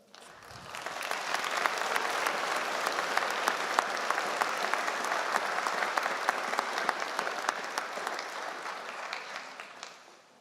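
Sustained applause from a large convocation ceremony audience, building quickly and holding steady for about ten seconds before tapering off at the end.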